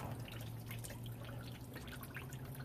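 Water under pressure flushes crud out of a clogged car heater core, making a steady close splashing, trickling rush with an underlying hum.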